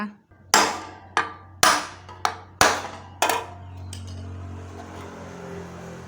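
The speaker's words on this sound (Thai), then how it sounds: "อันนี้ฝาครอบตูดมอเตอร์ ไปไป ใช้ค้อนค่อยๆตอกนะ" Six sharp metallic hammer taps on the rear motor end cover of an 18-inch Yamabishi industrial fan ring out at an uneven pace, each decaying quickly, followed by a quiet hum.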